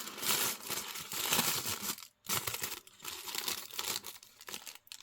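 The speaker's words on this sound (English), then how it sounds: "We've got this really cute tissue paper." Thin paper crinkles and rustles up close in busy bursts, pausing briefly before more crumpling.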